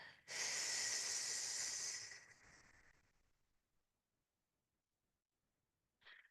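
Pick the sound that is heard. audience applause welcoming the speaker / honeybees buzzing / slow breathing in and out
slow breathing in and out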